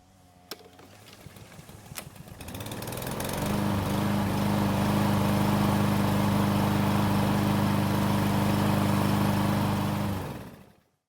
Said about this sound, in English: let's see if it'll start back up when the engine is hot